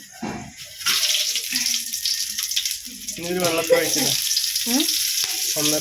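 Whole spices frying in a mix of oil, coconut oil and ghee for biryani, a steady hissing crackle that swells partway through, with nearby voices talking over it.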